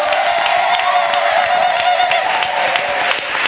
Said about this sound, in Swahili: Makofi kwake.